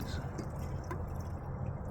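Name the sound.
pouring gasoline into a pocket bike tank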